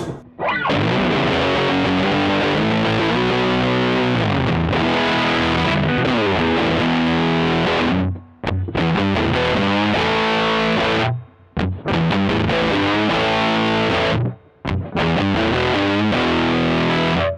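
Electric guitar played through a Boss OD-200 on a fuzz setting, a thick, saturated, muffled tone with sustained riffing chords, loud and continuous with a few brief pauses between phrases, no talking.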